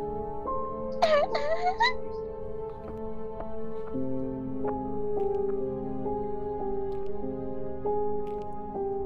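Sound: ghost child crying in video game

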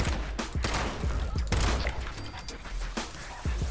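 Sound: gunfire in Fallout 76 video game

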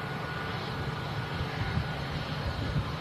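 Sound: EasyJet A320 with Sharklets taxiing past

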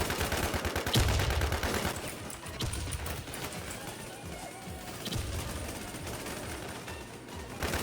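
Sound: gunfire in a video game (Runner)

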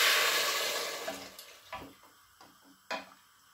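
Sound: hot water poured into lentils

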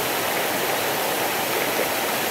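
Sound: murmuring mountain river, Bilək stream

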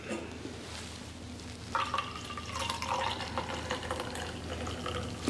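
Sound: coffee being poured

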